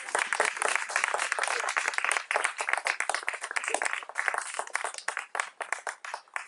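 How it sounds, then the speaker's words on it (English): Audience applause at a children's music institute performance, dense steady clapping from many hands filling the room, sustained and fairly loud throughout with slight waves in intensity. "Give them another round of applause."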